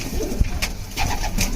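Pet pigeons in a Bangladeshi home loft coo in soft, repeated low calls, a few close bursts over a steady murmur of background sound.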